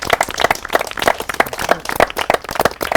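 A few people clap at a dinner gathering, producing quick, close, rhythmic hand claps that keep up a steady beat for several seconds.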